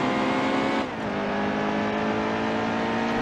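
A NASCAR stock car in the NASCAR Heat 2 game roars at full throttle on the Charlotte Roval. The loud, steady engine drone dips briefly for a gear shift, then climbs again.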